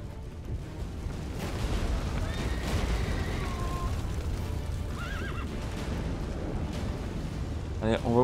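A horse in The Witcher 3 video game neighs and whinnies amid a rumbling, chaotic background of distant blasts, with hooves clopping and a final loud whinny at the end.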